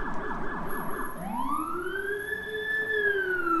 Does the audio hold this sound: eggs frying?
no